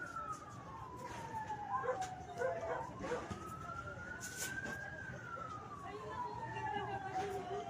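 A fire truck siren wails and sweeps up and down, arriving at a fire at the Isla Puting Bato port in Manila. It holds steady against a busy outdoor background, with a dog barking and whimpering nearby and people talking.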